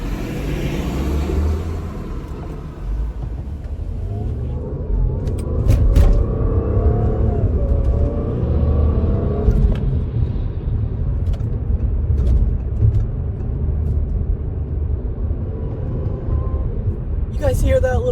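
A supercharged Audi A7 on the road gives a steady, loud cabin rumble with a faint rising whine that comes and goes as the car accelerates, and a person talks over it throughout.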